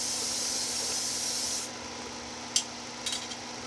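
A spray can hisses steadily onto an AMT Dodge Coronet snap model kit, then stops, followed by faint clicks and handling noises in a quiet room.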